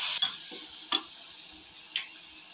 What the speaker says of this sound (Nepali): अब मैले यसमा फेरि पनि पानी लगाउँछु।